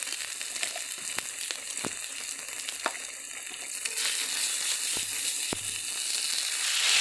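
Spice paste of cumin, turmeric, chili and chopped tomato sautés in hot oil with a steady close sizzle, while a spatula scrapes and clicks against the pan every second or so; the frying grows a little louder toward the end.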